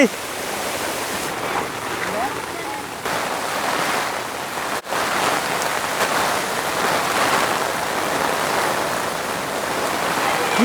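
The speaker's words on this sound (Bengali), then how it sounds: "পরিমাণে বৃষ্টি আসছে" Heavy rain pounds steadily on a tent in a loud, continuous roar, with faint voices occasionally audible beneath it.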